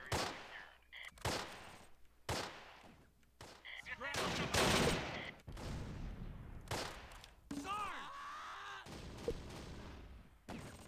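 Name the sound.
mortar fire in the video game Close Combat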